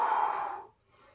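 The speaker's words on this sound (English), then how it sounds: "Circle the arms. And while you're doing so, breathe deeply." A single deep breath, a fairly close, airy exhale lasting about half a second, then quiet, taken while circling the arms in a stretch during an upper-body workout; no talking.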